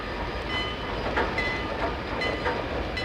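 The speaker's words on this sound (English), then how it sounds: "The train groans, creaks, and jerks forward." Train cars in the Church Hill Tunnel groan, creak and jerk forward, rumbling and grinding with a steady low roar, faint metallic creaks and squeals rising over the drone, sounding close and continuous with no voices.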